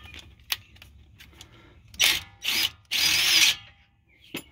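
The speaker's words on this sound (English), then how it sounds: "I took my impact wrench or impact driver." An impact driver removes a brake caliper bolt on a 2015 Toyota Venza, giving three short, fairly quiet bursts of buzzing hammering, the last one longest, with small mechanical clicks around them.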